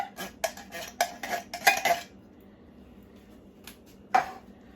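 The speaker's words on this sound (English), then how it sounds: "And stir that in there." A spoon stirs tomato sauce and tomato soup into a pot of cabbage roll soup, a quick run of clinks and scrapes against the pot, a pause, then one more knock, close and with no talk.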